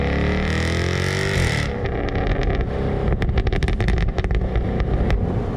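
A 2015 Jaguar F-Type R AWD sports car engine revs hard and loud in first gear, then drops into sharp, crackling bursts from the exhaust, with no voices.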